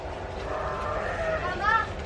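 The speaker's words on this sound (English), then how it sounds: "My sheep." A sheep bleats on a farm in Spain during an onion harvest, with a few wavering cries rising near the end over steady farmyard background noise and a nearby voice.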